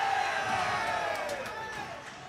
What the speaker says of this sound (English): Fans cheering a collision away from the play.